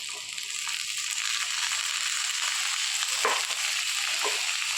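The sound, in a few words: rajma beans and potatoes frying in a pan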